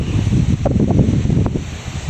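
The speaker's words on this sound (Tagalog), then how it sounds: "lakas ng hangin oh" Steady, loud wind buffets the microphone with low rumbling gusts and a faint rustle of eggplant leaves in a garden, no voices heard.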